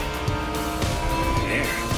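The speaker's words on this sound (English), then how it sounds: "Gonna push that car to its max speed or what?" Race car engine at high speed in The Crew Motorfest, a steady loud roar with tire noise, alone, with no voices.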